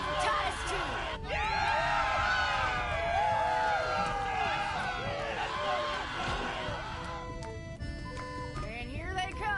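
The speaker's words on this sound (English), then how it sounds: "Let's have a cheer for Titus too." A crowd in the Borderlands 3 video game cheers and whoops, many overlapping voices yelling continuously in a loud, dense wash throughout.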